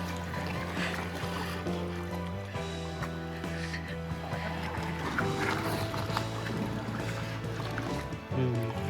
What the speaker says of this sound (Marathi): होडी मोठ्या पाण्यामध्ये आलेली आहे